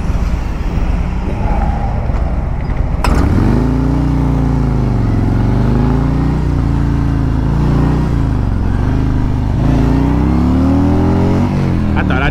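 A Harley-Davidson Road Glide motorcycle, freshly built, pulls away hard from a green light, its loud, close engine note rising and falling through gear changes in a continuous roar.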